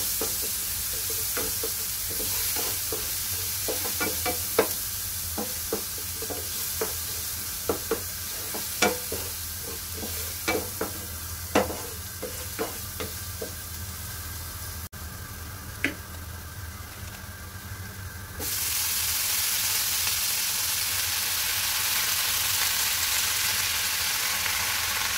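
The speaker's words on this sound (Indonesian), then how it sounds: "Dan ini aku masak tumis sayur karena lauknya ada sisa telur dan ikan goreng." Vegetables stir-fried in a pan at home: a steady sizzle with frequent light scrapes and clicks of stirring throughout, growing louder and denser near the end.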